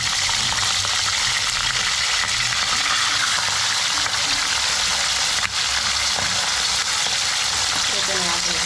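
Sweet potato fries crackle and sizzle loudly in hot oil, a dense continuous frying hiss with scattered pops and faint clatter, close up and steady throughout.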